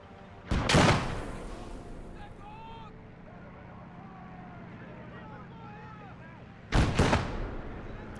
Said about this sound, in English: I think I might drop a bomb here.